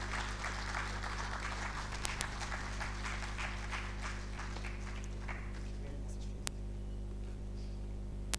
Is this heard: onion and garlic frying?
no